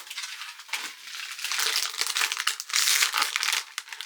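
Plastic wrapper crinkles and crackles close up, a continuous rustling scrunch that swells and eases over a few seconds.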